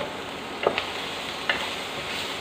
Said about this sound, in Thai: ขิงแล้วก็ กระเทียมนะคะลงผัด